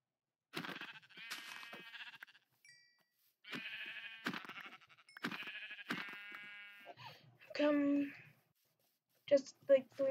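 Repeated Minecraft sheep bleats, several wavering calls in a row with short gaps between them, clear and up close, followed by a few brief game sound effects.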